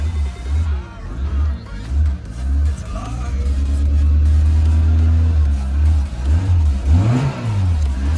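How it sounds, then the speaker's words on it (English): The 1.0-litre engine of a 1994 Citroen AX runs close by, idling with a low rumble and then revving up briefly. "It's got a little nippy engine."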